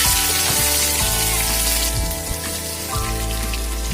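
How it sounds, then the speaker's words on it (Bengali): Potatoes frying in mustard oil in a wok give a dense, continuous sizzle with a constant crackling hiss. It stays loud and steady throughout, with no voices. "আলুগুলোকে আমি এখন লাল লাল করে ভেজে নেব"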